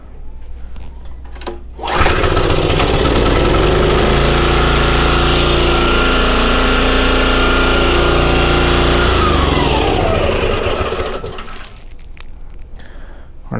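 Toro commercial mower engine with a possible fuel leak and carburetor trouble, starting abruptly and running at a loud steady high-pitched roar for about nine seconds before winding down and quieting.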